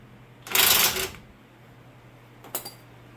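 An impact wrench with a 15 socket breaking loose a rear shock nut on a 2003-or-later Crown Victoria/Grand Marquis: a loud half-second burst of rattling hammering, then a brief second short burst.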